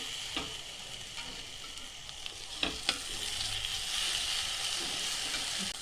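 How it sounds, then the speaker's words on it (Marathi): Bitter gourd sautéing in masala in a pan: a steady soft sizzle with occasional stirring scrapes and clicks, close and fairly quiet, with no talk over it. "आता आपल्याला ह्या मसाल्यामध्ये चांगलं परतून घ्यायचं"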